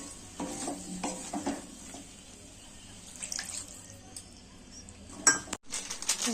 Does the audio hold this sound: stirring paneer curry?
yes